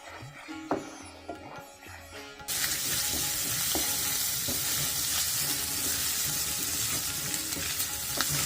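Beef tripe sizzles loudly and steadily in hot oil as it is stir-fried. A quieter stretch with scattered clinks comes first, then the frying suddenly swells and keeps going, close up and dense, with occasional scrapes.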